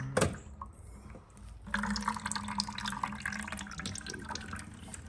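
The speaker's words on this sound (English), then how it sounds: "So this is the coolant line. All the coolant coming out of here." Coolant drains from a line on an Audi A3 2.0T TFSI engine during water pump removal, a faint steady trickle and splatter that starts after a brief clunk near the beginning.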